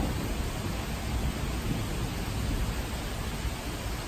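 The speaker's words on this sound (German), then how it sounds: "alles grau, kein Blitz, aber eben Dauerdonnern" Continuous low rolling thunder under a grey sky with no lightning, a steady dense rumble filling the whole stretch without breaks, moderately loud and with no voices.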